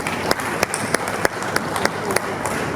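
A conference audience applauding, a dense, steady wash of many hands clapping close by, with a few sharper individual claps standing out and voices faintly underneath.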